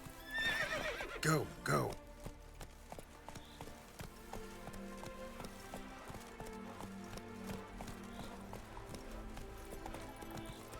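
A horse in The Witcher neighs loudly, then gallops on with rapid, steady hoofbeats, while a man briefly urges it on.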